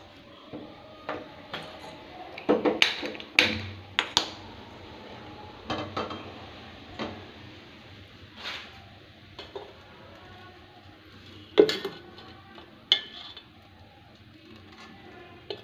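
A pan set down on a stove while starting a paneer curry, heard as scattered metallic clinks and knocks of cookware, some sharp and close, among quiet kitchen pauses.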